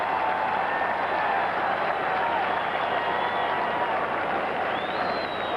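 A large football stadium crowd at a 1979 NFL game keeps up a dense, continuous roar of cheering and applause. The sound is loud and steady from distant massed voices, with no single voice standing out.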